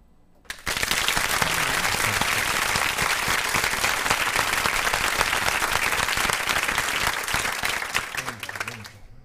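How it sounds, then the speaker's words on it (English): Audience applause during a live radio show taping in Yonkers, bursting in abruptly after a quiet moment and then holding as a loud, sustained, even roar of clapping that tapers slightly at the end. "we definitely want to give you a round of applause."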